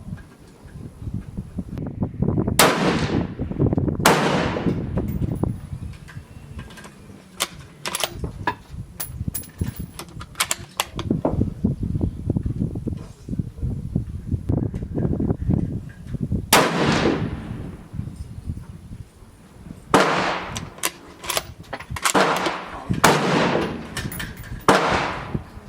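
Sharp, loud rifle shots from a Mossberg MVP LR bolt-action at an outdoor range, fired at 100 and 300 yards, with several distinct reports spaced across the stretch, separated by quieter handling noise and wind.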